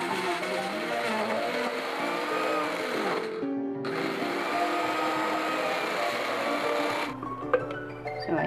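A blender's grinder attachment grinds peanuts for homemade peanut butter, a loud, steady motor whine with rattling nuts running continuously, with brief pauses partway through and near the end.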